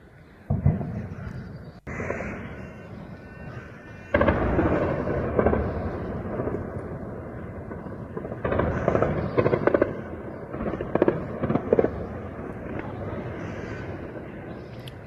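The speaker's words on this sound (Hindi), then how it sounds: "ये कीव के पास की तस्वीर है जहां पर फायरिंग की आवाज आपको सुनाई देगी।" Gunfire near Kyiv during fighting between Russian and Ukrainian troops: several heavy distant bursts and booms rolling over a steady rumbling background, with irregular clusters of sharper cracks in between.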